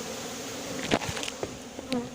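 Close, steady insect buzzing from a honeybee swarm, a dense drone with brief louder passes of individual bees flying near, during a swarm capture using a cardboard box and smoke.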